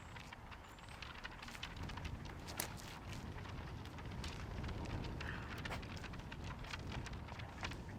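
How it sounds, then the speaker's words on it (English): Wind gusts and rushes across an outdoor disc golf course at a tournament, a steady broadband roar with brief crackling buffets, fairly faint and with no voices. "The wind is doing some work out there."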